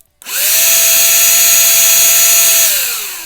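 A rebuilt cordless car vacuum cleaner's small electric motor whirs up quickly to a steady, loud high-pitched whine for nearly three seconds, then winds down as it is switched off, with no voices.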